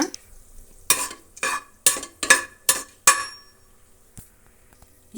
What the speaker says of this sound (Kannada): ಒಂದು ಮರಾಠಿ ಮೊಗ್ಗು ಒಂದೆರಡು ಚಕ್ಕೆ ಎರಡು ಎಲೆ ಪಲಾವ್ ಎಲೆ ಇಷ್ಟನ್ನು ಫ್ರೈ ಮಾಡೋಣ